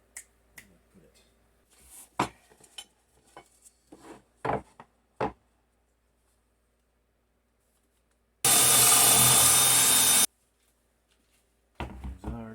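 After scattered clicks and handling noises, a jigsaw cuts a square opening in wood laid over a 2x4, a loud close buzzing rasp lasting about two seconds before stopping abruptly, then restarting briefly.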